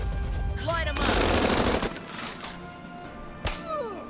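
Rapid bursts of gunfire in the video game Tiny Metal: Full Metal Rumble, a dense crackling fusillade lasting about a second, followed by quieter game effects and a single sharp shot later.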